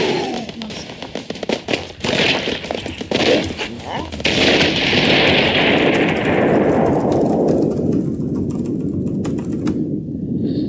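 Rapid gunfire and explosions fill a round of the Broforce video game, with dense bursts of shots up front giving way to a sustained roaring blast that fades toward the end.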